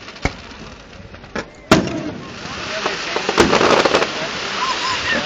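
Fourth of July fireworks in West Allis, Wisconsin, crack and boom from a distance in several sharp separate blasts, followed by a sustained rumbling crackle, with some faint voices among the crowd.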